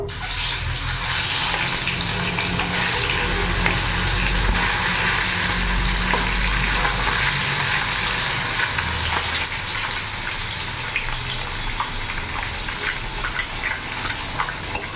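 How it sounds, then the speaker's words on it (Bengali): Eggs frying in hot oil in a wok, a loud, continuous close-up sizzle and crackle that stays steady throughout, with no one talking. "তেলটা গরম হয়ে গেছে, এবার আমি ডিমগুলো ছেড়ে দেবো।"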